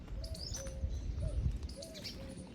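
A bird perched atop a pole outdoors gives repeated short chirping calls, several in a loose rhythm over a low rumble of background noise, fairly distant and moderately faint.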